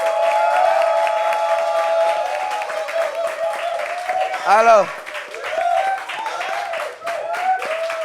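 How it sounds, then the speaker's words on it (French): An audience applauds for Malika, a guest called up at a gathering, with a steady wash of clapping running throughout while people talk over it, and a voice swells briefly near the middle. "Est-ce qu'on peut avoir des applaudissements pour Malika, s'il vous plaît?"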